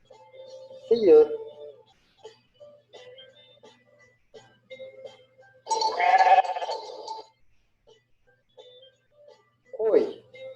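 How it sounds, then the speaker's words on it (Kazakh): A sheep's bleat rings out a few times between short spoken words in a children's natural science lesson for the second grade, each call fairly loud and close against a quiet background. "Қой."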